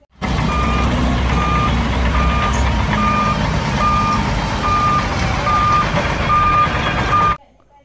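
A toy coal truck sounds its reversing alarm, a steady series of evenly spaced electronic beeps, loud and close, running continuously for about seven seconds before cutting off abruptly.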